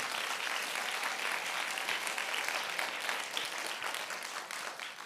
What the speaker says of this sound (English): Give all 20 of these graduates a round of applause.